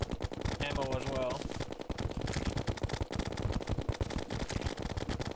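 Rapid automatic gunfire firing splitting bullets in the video game Terraria during a Plantera boss fight, a dense, loud stream of shots with game sound effects layered over it and continuing without pause.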